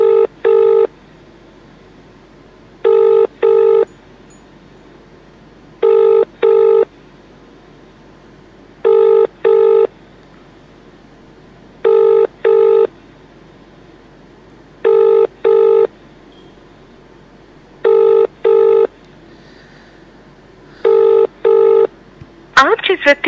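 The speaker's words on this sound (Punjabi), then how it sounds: "ਹੁਣ ਮੈਂ ਦੁਬਾਰਾ ਲਾਈਵ ਵੀਡੀਓ ਦੇ ਵਿੱਚ ਫੋਨ ਲਾਇਆ ਵਾ।" An outgoing phone call rings out unanswered, its repeated double ring tones sounding in even, regular pairs about every three seconds and going on for over twenty seconds with no one picking up, loud and clear against a quiet background.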